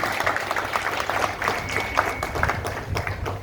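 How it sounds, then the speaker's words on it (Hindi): Steady clapping from a crowd, a dense patter of many hands that holds at an even level for a few seconds. "उनके लिए वास्तविक एक दिल से तालियां बनती हैं"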